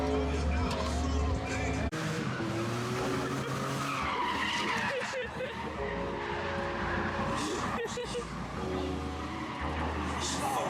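A car spins out with tires skidding at a car meet at an abandoned prison, its engine revving and tires squealing in long, loud screeches, while people talk and shout over it.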